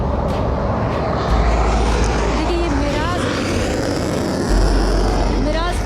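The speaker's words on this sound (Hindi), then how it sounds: "ये जो फाइटर जेट आता हुआ, ये मिराज फाइटर जेट है, जो कि बहुत ही तेज़ी से इसने लैंडिंग की है" A Mirage fighter jet lands at high speed on an expressway airstrip, its engine giving a loud, continuous roar and rumble, with crowd babble and voices mixed in throughout.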